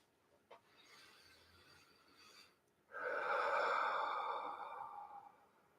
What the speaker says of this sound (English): Inhaling in through your nose and a longer, slower exhale out through your mouth.